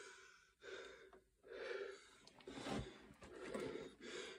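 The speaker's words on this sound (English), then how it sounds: "Sorry my breathing, but this is hard." Heavy, labored breathing from a man hiking out of an old desert mine, with repeated loud gasping inhales and exhales close to the microphone, coming in uneven bursts through the whole stretch.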